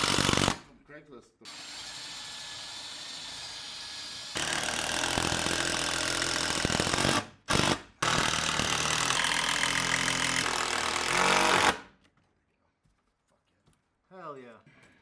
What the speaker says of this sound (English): Pre-drilling the holes first before adding the screws because we don't want the wood to split